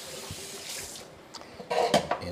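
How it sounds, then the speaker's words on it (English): Tap water runs over veal meat being rinsed in a sink, a hissing splash that fades briefly then gushes louder again with a few clunks of handling. "We're going to rinse this meat off"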